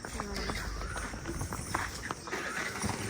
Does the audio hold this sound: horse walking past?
yes